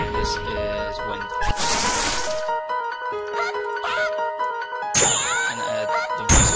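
Wind attack effect for a custom Mugen fighting game character, with a loud rushing whoosh burst, chiming and ringing tones, and a later sharp hit over continuous tonal game music.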